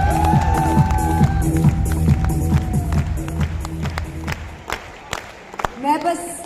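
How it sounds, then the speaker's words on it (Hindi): A packed event crowd of several thousand at a company gathering breaks into loud clapping and cheering, with music fading under it, then thinning into scattered claps and shouts as a voice speaks. "सबके लिए जोरदार तालियां।"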